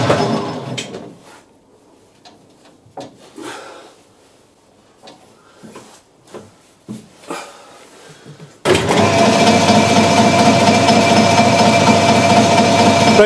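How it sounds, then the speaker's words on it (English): A metalworking machine, sped up and taking a deeper cut while making chips, bursts into a loud, steady grinding roar up close after several seconds of quiet clicks and knocks. "I'm going to speed the machine up, and we're going to take an even deeper cut"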